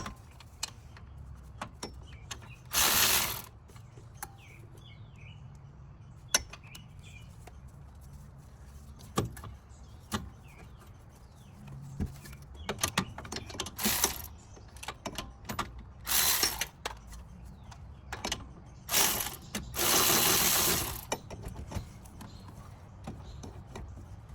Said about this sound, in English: Remember I was talking about getting the ratchet stuck?